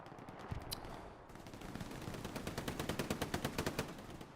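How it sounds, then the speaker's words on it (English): A machine gun firing in the multiplayer war game Hell Let Loose, fairly faint and distant: a couple of short bursts, then a long rapid rhythmic stream of shots. "MG coming in from Chlamydia."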